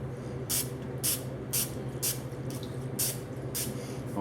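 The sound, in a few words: spraying cooking oil lubricant on an O-ring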